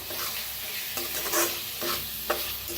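Onion masala with tomato and a little coriander roasting in oil, stirred with a spoon, a steady sizzle broken by several distinct scraping strokes against the pan, close and fairly loud.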